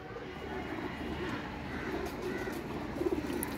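Paired pigeons of a fancy breed cooing in a loft, a steady low murmur of soft coos with a few slightly louder calls near the end, over a constant background hum and no speech.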